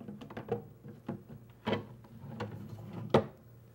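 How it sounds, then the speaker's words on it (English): A wooden drawer is fitted into a cabinet, giving several close knocks and sliding scrapes of wood on wood in an uneven rhythm, with two sharper bumps standing out. "So now we can install the drawer."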